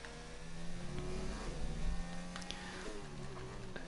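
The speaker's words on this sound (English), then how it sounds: "Now picking up the throttle." A Formula 2 race car engine in a racing video game climbs through the revs under throttle, a steady buzzing drone rising and shifting in pitch with quick gear changes, heard fairly quietly with a faint voice in the background.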